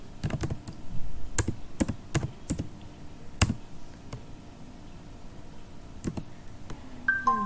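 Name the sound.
typing a repository name on a computer keyboard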